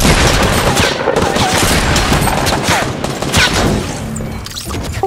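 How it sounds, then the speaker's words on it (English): Fortnite game gunfire rattles in rapid, loud bursts that follow one another almost continuously, thinning slightly toward the end. "There's a guy shooting me from above"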